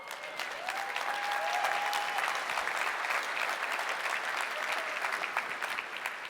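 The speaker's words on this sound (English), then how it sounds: "You can applause now." A crowd applauds steadily throughout, a dense wash of clapping from many hands that holds at an even level.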